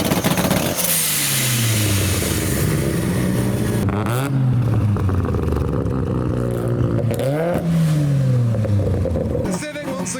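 A tuned car engine boosts and revs at a gathering of Mitsubishi Evos and other cars, loud repeated rising pulls with turbo whoosh, amid people talking nearby.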